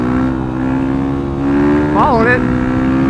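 A sport bike engine drones steadily and then rises in a quick revving swell as the rider rolls on the throttle through a turn. The engine is loud and close, with a voice talking briefly over it.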